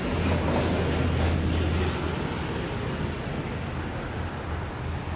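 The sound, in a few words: sea waves at Manila Bay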